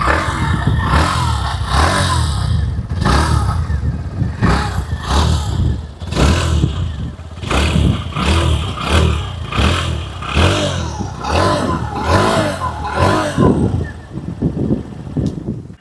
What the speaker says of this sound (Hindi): फर्स्ट में सुन लेते हैं बेस मॉडल की एग्जॉस्ट नोट